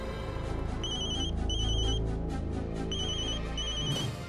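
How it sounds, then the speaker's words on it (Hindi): A mobile phone ringtone plays its short electronic melody several times in a row, loud and close, over a steady musical background from a Hindi TV serial. "प्रज्ञा का फोन?"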